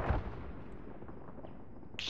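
An NLAW anti-tank launcher fires in Arma with a sharp, heavy boom at the start, followed by a long rumbling decay that trails off, and a faint metallic click near the end; no voices.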